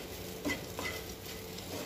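Bitter gourd fries in a pan, a soft sizzle with a few light stirring scrapes against the metal, quiet and brief.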